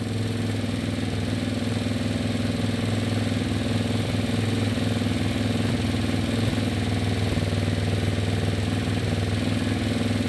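A 125cc gas engine on a converted golf cart runs steadily alongside its cooling fan, giving a loud, even hum with a constant whir, close by and unbroken, with no talking.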